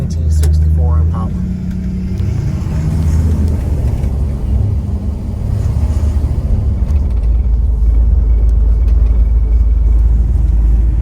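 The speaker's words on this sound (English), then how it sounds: "we are going to get a quick test drive in the 64 Impala" A 1964 Chevrolet Impala out on a test drive gives a steady, loud, low engine and road rumble that fills the whole stretch, with a voice talking over it.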